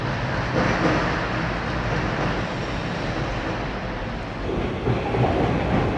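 Steady rumbling of a moving train carriage in London heading to the Thames on a rainy day, a constant low roar with faint rattling throughout.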